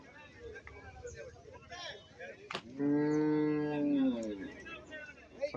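A nearby cow lets out a long, loud moo amid outdoor cattle market bustle, with people talking in the background before and after.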